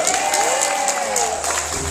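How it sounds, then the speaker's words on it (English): Audience at a product presentation in Cebu applauding and cheering a senior vice president, loud continuous clapping with crowd voices and cheers blended in. "Create a round of applause with standing ovation."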